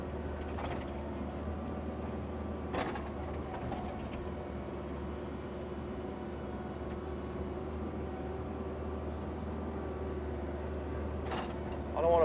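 A Kubota mini excavator digging out a tree stump runs with a steady low diesel drone and hydraulic whine, broken by a few sharp knocks and scrapes of the bucket against roots and soil.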